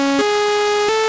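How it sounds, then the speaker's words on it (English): Saw wave oscillator tone from FL Studio's 3X OSC synth, a bright, harsh buzzing note that steps through a few pitch changes, loud and sustained throughout. "saw wave,"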